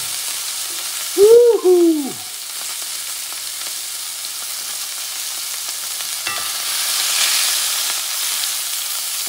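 Ribeye steak frying in a pan, a steady, moderate sizzle throughout, briefly interrupted near the start by a loud, excited vocal whoop.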